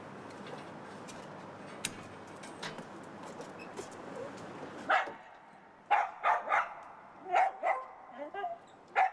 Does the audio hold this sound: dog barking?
yes